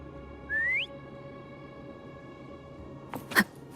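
A single rising whistle to call Foam in Wuthering Waves, short and clear over quiet game ambience, followed a few seconds later by a brief burst of game sound effects.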